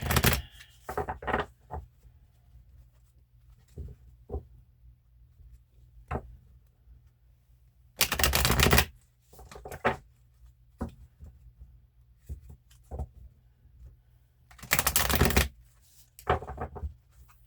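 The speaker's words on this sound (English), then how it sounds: "Let's shuffle the deck, shall we?" Two bursts of riffling card shuffles, each about a second long, with scattered soft taps and clicks in a quiet room between them.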